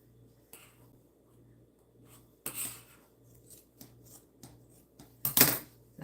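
Scissors snip through fabric in a few sharp, close cuts separated by quiet pauses, with a faint low hum underneath and no talking.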